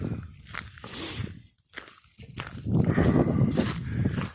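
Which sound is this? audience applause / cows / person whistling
cows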